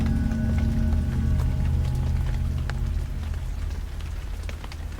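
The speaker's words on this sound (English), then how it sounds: "Oh, it's pouring rain." Heavy rain pouring on an outdoor golf course during a thunderstorm, a dense, steady hiss of drops pattering on surfaces close by, with a low continuous rumble beneath.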